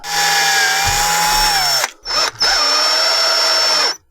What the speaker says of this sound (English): I'll drill a little hole in this piece and run a screw through it